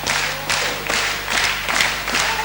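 Wrestling arena crowd at a VPW show, roaring and clapping steadily throughout, with rhythmic swells of applause and cheering and occasional thuds beneath.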